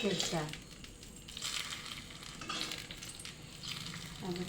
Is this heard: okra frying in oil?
yes